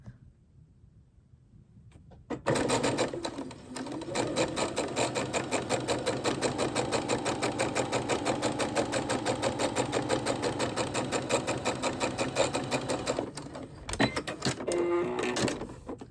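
A sewing machine stitches fabric for a homemade tissue cover, running steadily and close for about eleven seconds with its rapid even needle rhythm, briefly stopping near the end before starting again.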